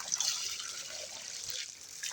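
Water runs steadily from a newly drilled mini water well, a continuous bright trickle and splash heard close up without talk.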